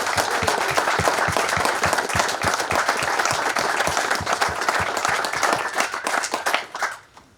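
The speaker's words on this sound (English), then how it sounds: "give a round of applause for the residents." An audience at a ribbon cutting ceremony and annual meeting claps steadily in dense, lively applause for several seconds before it tapers off and fades out.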